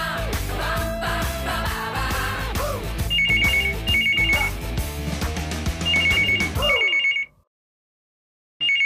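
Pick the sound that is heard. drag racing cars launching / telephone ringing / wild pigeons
telephone ringing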